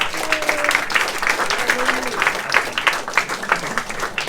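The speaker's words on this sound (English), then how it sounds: "Please give her a big round of applause." An audience at a Day of the Dead (Dia de los Muertos) event at a Mexican trade office claps in a steady, dense burst of applause lasting a few seconds, fairly close and without speech.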